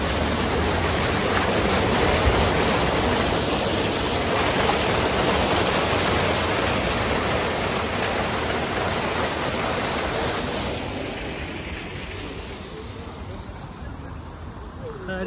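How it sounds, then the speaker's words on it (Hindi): Water falling beside a building in Stockholm, a steady, dense rushing wash close by that thins a little toward the end, with no talking. "बिल्डिंग के पास है पानी गिरने का ये नज़ारा मौजूद है।"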